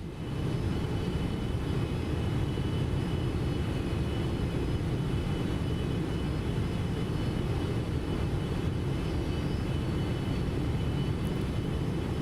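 Engines of a FlightFactor Boeing 777-300ER in X-Plane 12, a constant broad jet roar with a faint high whine, unchanging and steady throughout, no voices.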